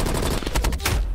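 Rapid gunfire from the video game Black Ops Cold War, set in Moscow, sounds as a dense, loud burst of automatic shots filling the whole moment with sharp repeated cracks and no talk.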